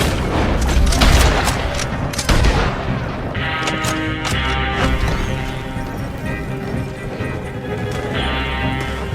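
Gunfire in a Red Dead Redemption 2 shootout: repeated loud gunshots and heavy booms crack over a continuous rumble of hoofbeats and wagon noise, dense and close throughout.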